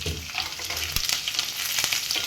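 Curry leaves and a pinch of asafoetida hit hot oil for a tempering for a dried-prawn gongura curry, giving a loud, steady frying sizzle with a few sharp crackles and stirring sounds, no talking.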